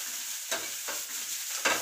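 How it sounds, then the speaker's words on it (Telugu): A peanut and jujube (ber) chutney frying in a pan, with a steady sizzle broken by three distinct scraping stirs, loud and close. "చాలు ఈ మాత్రం వేగుతుంది కదా, మనం స్టవ్ పెట్టేస్తాం."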